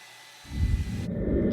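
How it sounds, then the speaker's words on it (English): A hair dryer switches on abruptly, rising to a loud, steady blowing whoosh that drops to a lower pitched roar as the setting changes. "turn your hairdryer on high, melt it, and wipe it right off"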